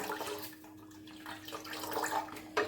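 Water poured into health mix powder (sathu maavu) and stirred to dissolve for porridge, a steady close trickling and swishing of liquid with small splashes, rising toward a brief clink near the end.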